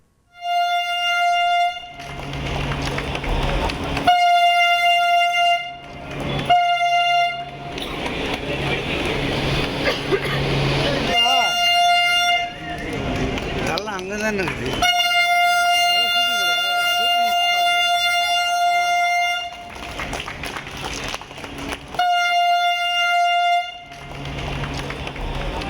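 A driverless Chennai Metro train on its phase two trial run from Poonamallee to Porur sounds its horn in repeated long, loud tonal blasts, separated by brief gaps, over a rumbling, noisy background.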